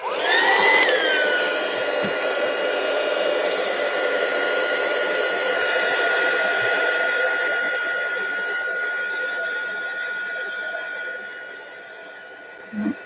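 Hair dryer blowing on tiny craft pieces, a loud steady whirring hiss that starts abruptly and runs without break for about twelve seconds before cutting off.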